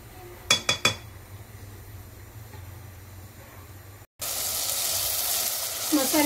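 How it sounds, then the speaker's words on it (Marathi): A few sharp metallic clinks of a utensil against a pan come first, then ground masala paste for misal hits hot oil and roasts with a sudden, steady sizzle. "मसाला आपण तेल सोडेपर्यंत भाजून घेऊया।"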